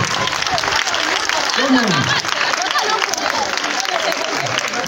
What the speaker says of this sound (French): Applaudissez pour votre camarade, s'il vous plaît.